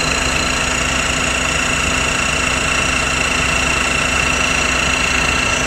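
A 12 volt, 5 ton electric car jack motor lifts a car, giving a steady, loud mechanical whir and hum that runs unbroken and close throughout, with no talking.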